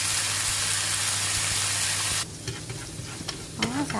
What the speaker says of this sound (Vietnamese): Đó, xào vậy đó.